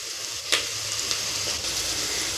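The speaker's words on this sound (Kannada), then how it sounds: "ಈ ಥರ ಈರುಳ್ಳಿ ಗೋಲ್ಡನ್ ಕಲರ್ ಬರೋವರೆಗೂ ನೀಟಾಗಿ ಫ್ರೈ ಆಗಬೇಕು." Onions and cashews fry in a pan with a steady, close crackling sizzle, broken by a few soft stirring scrapes.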